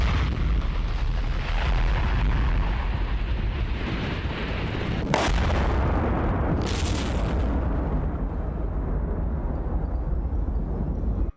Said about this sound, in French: lequel d'entre vous a encore touché à mes feux d'artifice?